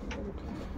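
Pigeons in a loft give a brief, soft coo over a steady low background hum, heard close but faint with no voices.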